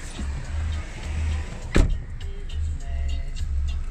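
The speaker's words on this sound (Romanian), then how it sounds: "Hai să mă sui în mașină, vedem ce se întâmplă." Someone gets into a car at night, with a single sharp door thump midway between low rumbling pulses from the vehicle, all close and fairly loud.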